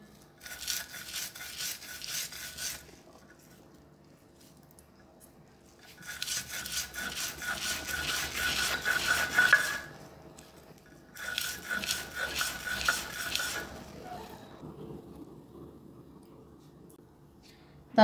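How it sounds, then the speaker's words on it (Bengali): Fried prawn shells are ground into a paste with repeated rough rubbing strokes, heard in three bursts of a few seconds each with quieter gaps between them, close and moderately loud, with no talking. "চিংড়ি মাছের ভর্তাটা আমার বাটা হয়ে গেছে"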